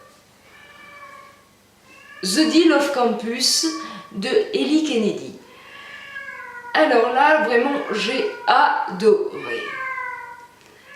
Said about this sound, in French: Je m'excuse si vous entendez un petit peu miauler, c'est mon petit chat